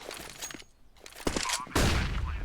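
Gunfire in a Counter-Strike esports match, several bursts of shots cracking across a short stretch, with a louder, denser volley near the end amid game noise.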